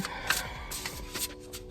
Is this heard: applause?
no